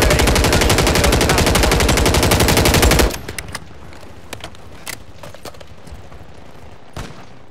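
Rapid automatic gunfire in a military shooter video game, a dense continuous burst for about three seconds that cuts off, followed by scattered faint shots and clicks.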